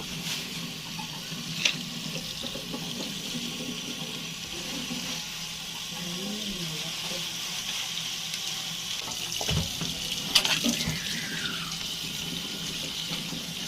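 Tap water runs steadily into a sink in a home kitchen while chicken is prepared for tinola soup. The stream is continuous and close, with a few clinks and knocks of handling along the way and no talking.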